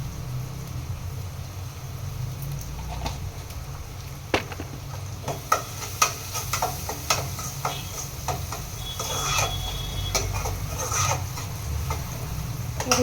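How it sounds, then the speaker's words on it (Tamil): Onions and green chillies sautéing with turmeric in a pan for crab gravy: a low steady sizzle with scattered ticks and spoon scrapes, fairly close, without talk. "இது இப்படி வதங்கட்டும்."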